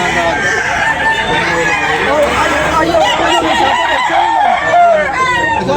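A rooster crows repeatedly at a poultry market in Tabunok, Talisay, Cebu, loud and close, over constant chatter and talk from people nearby.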